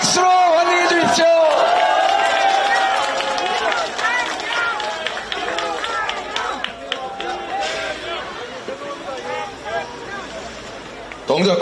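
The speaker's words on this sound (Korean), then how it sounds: "여러분 박수로 환영해 주십시오." A large crowd at an outdoor Korean election campaign rally in Dongjak, Seoul, cheers and claps loudly and continuously, with many overlapping shouting voices.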